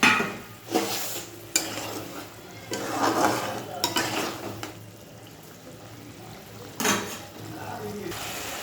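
Fried eggs go into a boiling curry gravy and are stirred in, giving intermittent scraping and clattering of a utensil against the pan over a soft bubbling simmer.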